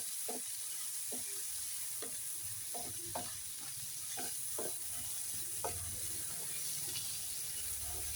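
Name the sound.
stirring vegetables mixed with salt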